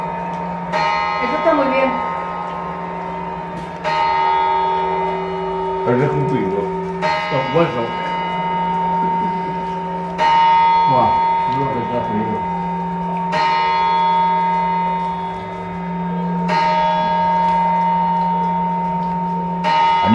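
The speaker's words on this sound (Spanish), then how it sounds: "Y ahora, ¡las campanadas!" Church bells ring out the New Year's midnight chimes, one loud strike about every three seconds with a long ringing decay. People chat and laugh over the chimes.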